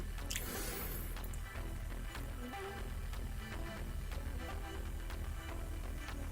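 About 120 grams of water trickles slowly onto a kitchen scale, a faint, close pour with scattered small drips and splashes and no talking.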